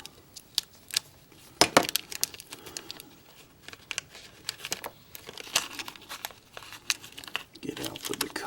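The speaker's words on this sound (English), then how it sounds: "Cut this packaging open." A knife slicing open plastic packaging for a model train decoder, with a burst of sharp crinkling and tearing, then scattered crackles and rustles, close up with brief quiet gaps.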